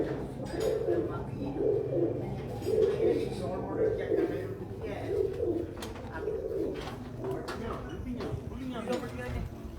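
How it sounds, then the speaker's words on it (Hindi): Pigeons coo repeatedly in a rhythmic, throaty pattern nearby, with someone talking over them and light rustling in the background. "ये कबूतर मिलते हैं"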